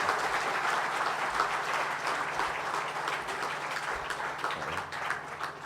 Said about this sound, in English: can we give him a round of applause for what he's done?